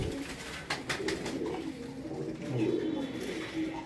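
Pigeons of one breed on a rooftop cooing in low, soft, rolling calls, several coos in sequence close by, with light background noise and a brief clatter near the start.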